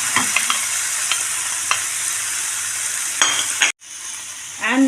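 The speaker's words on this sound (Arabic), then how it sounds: "غنزيد عليها الكبده ديالنا اللي زولناها نص الطياب عملناها" Chicken liver sizzling and frying in a pan with onion and garlic sauce, with a steady hiss, occasional stirring clicks and a brief break near the end, no talk.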